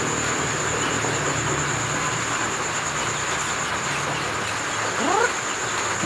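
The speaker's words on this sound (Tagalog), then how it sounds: "Malakas na yung ambon." Heavy drizzle patters onto wet cardboard outdoors on a rainy morning while chicks are fed, a steady close hiss throughout with a brief rising chirp near the end.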